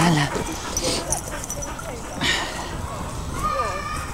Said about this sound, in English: My dog thinks she's herding sheep. She's barking because everyone's off lead.